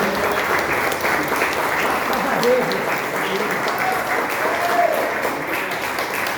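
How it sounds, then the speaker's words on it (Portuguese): A church congregation claps in praise, giving steady, moderately loud applause throughout with faint voices and a sung line underneath. "Com palmas para o Senhor."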